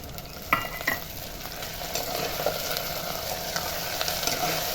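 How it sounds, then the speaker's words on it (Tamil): Garlic sautéing in a pan for a Tamil lunch dish, a steady close sizzle with a few sharp stirring scrapes near the start, no talk. "பூண்டுலாம் நல்லா வதங்கிட்டு"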